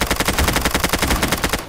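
Automatic gunfire in the video game STALKER comes as a loud, rapid burst of evenly spaced shots that runs without a break through the whole moment, with no talk over it.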